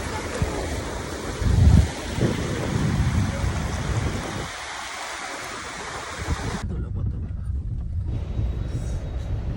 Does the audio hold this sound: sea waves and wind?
yes